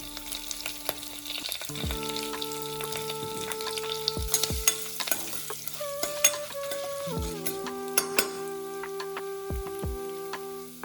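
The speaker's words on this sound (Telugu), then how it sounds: "జీడిపప్పు, ఇవి వేగుతూ ఉంటాయి." Cashew nuts sizzle in hot oil in a pan while curry leaves and asafoetida cook alongside for katte pongal, with a steady crackling fry, scattered sharp pops and light stirring clatter.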